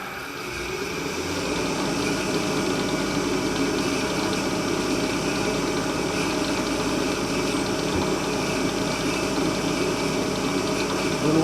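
A Harley-Davidson motorcycle engine cranks and settles into a steady, continuous running drone with vibration, close by and alone, holding for about ten seconds.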